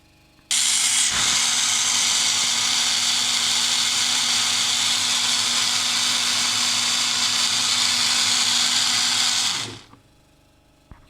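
An electric kitchen grinder blends an onion and yogurt mixture in one loud, continuous whirring run that starts abruptly, holds steady for about nine seconds, then winds down and stops, with no talk.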